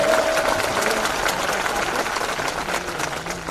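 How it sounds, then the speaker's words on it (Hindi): A dense, continuous wash of crowd applause at a political rally in Madhya Pradesh, loud and steady, fading only slightly by the end. "सावेर की गूंज होना चाहिए जोरदार तालियों से।"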